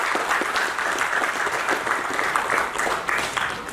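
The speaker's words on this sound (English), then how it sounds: "Can we give a big round of applause to the organizers, to Sir, to all the teachers?" A seminar audience applauds steadily for the organizers and teachers, a dense, even wash of many hands clapping with no voices standing out.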